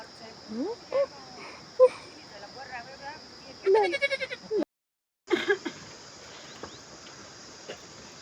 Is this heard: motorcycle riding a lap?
no